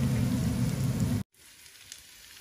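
Onion frying in oil in a pan for a hilsa fish dish: a close, dense sizzle that cuts out suddenly, followed by a faint, quieter crackle.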